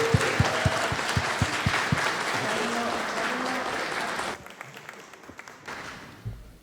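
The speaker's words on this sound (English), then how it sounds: "a round of applause for Connor, who just graduated" A crowd applauds a graduate named Connor at a Disney Family Museum reception after party, with steady clapping over a mid-distance room murmur. The applause fades after about four seconds, leaving a quieter hum and scattered voices.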